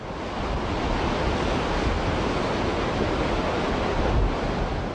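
Sea waves on the rocky Costa Verde coast of Sardinia, a steady, loud, broad wash of surf with a slight swell near the end, no voices.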